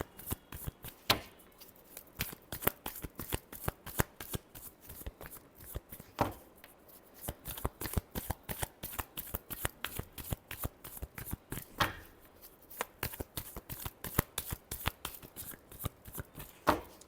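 A deck of tarot cards is shuffled over and over, the crisp riffles and snaps coming in a quick, steady rhythm, close and fairly quiet, with no talk.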